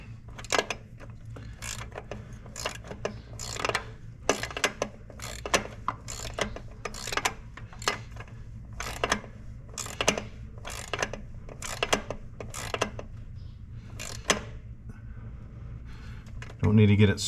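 A Snap-on socket wrench ratchets in repeated short clicking bursts while tightening a bolt on a 2011 Santa Fe 3.5L engine, close up, with someone talking over much of it.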